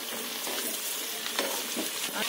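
Jackfruit stirred and fried in a pan, a bright continuous sizzle with a few soft scraping stirs, close and alone without talk.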